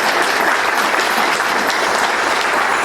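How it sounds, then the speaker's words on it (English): At a veterans art festival, a crowd gives loud, steady applause for a dancer's regalia, a dense unbroken clapping that fills the whole moment. "let's give her another round of applause for the regalia"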